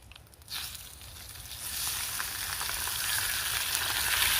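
Thick cut bacon frying in a pan at a woodland winter camp, a soft start that swells into a steady crackling sizzle which grows louder and denser, close up with no talking.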